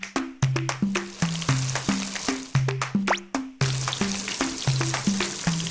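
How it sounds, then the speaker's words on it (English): Squid sizzling on a roadside street food griddle as it is pressed repeatedly, loud frying hiss punctuated by regular sharp presses with tonal squeaks, close and steady with no talking. "Press the squid on the griddle repeatedly. Keep pressing. Cook out the excess moisture."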